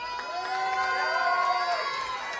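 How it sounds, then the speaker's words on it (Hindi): Guests at a family engagement celebration cheer and clap, a lively crowd roar with whoops and raised voices swelling through the room, fairly steady and moderately loud. "जोरदार तालियों का जो शोर है ना वो नहीं रुकना चाहिए।"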